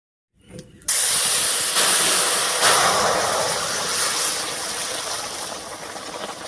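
Fish gravy hits hot oil tempered with whole cumin and torn bay leaf, bursting into a loud, sudden hiss that holds steady as a sustained sizzle for several seconds, with no talking.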